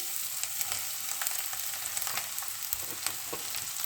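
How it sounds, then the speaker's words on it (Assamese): Mushrooms pour into hot oil in a wok on a gas stove for mushroom pickle, setting off a steady, dense sizzle with crackling pops throughout, close and fairly quiet, with no voices. "এতিয়া মাছৰুমখিনি ঢালি দিম"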